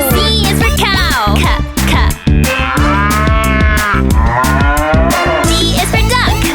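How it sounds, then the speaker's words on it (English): A cow moos loudly and clearly within a children's animal ABC song, its long, wavering low calls running through the clip alongside music. "C is for cow."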